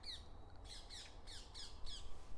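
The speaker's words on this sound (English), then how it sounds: "these very noisy birds above me, these are the parakeets of London" Green parakeets squawking overhead in a London park in a rapid series of shrill, piercing calls, repeated about five times over a low rumble of background noise.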